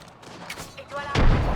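Gunfire in the battle-royale game Apex Legends: quiet game sounds at first, then a loud, dense burst of shots that swells and continues to the end.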